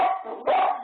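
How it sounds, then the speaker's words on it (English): A dog barks in the background, giving a couple of yips or whimpering barks over a steady backdrop of room noise. "You can hear my dog in the background"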